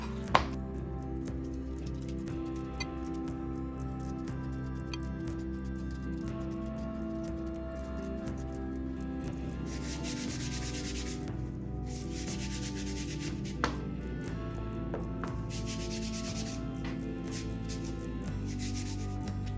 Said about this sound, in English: Peel the beets.